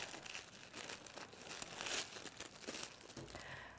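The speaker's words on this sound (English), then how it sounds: "I'm just going to tie a double knot." Holographic gift ribbon crinkles and rustles while being tied into a double knot on a wrapped Christmas present, a close, steady crackle of crumpling plastic with brief sharper swells.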